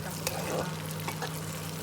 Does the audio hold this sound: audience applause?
no